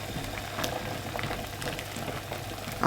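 A pot of water coming up to the boil for broccoli and cauliflower, with close, continuous bubbling and small popping bursts, a low steady rumble beneath and a sharper splash at the end; no voices.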